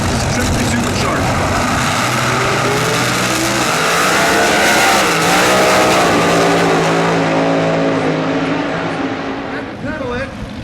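Triple-supercharged sportsman drag racing car at the NHRA Sonoma Nationals, a loud sustained engine roar that climbs in pitch as it accelerates and then fades, with an announcer talking over it throughout.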